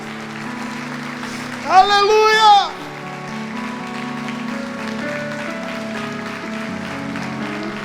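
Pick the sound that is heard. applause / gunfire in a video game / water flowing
applause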